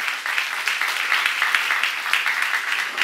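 A church congregation at a seminar claps together in a dense, continuous round of applause that stays fairly close and even throughout.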